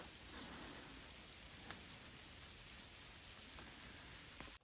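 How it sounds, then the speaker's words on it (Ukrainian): Light rain starting to fall, pattering steadily on surfaces on autumn mountain slopes in the Ukrainian Carpathians, a soft continuous hiss with occasional distinct drops. "починає дощ"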